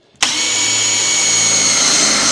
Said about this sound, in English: Now we're going to go ahead and drill the hole.